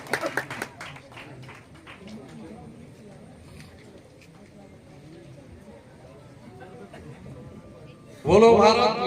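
Loud burst of audience clapping erupts near the end for a former district panchayat member introduced at a village kirtan gathering, following a stretch of murmuring crowd noise.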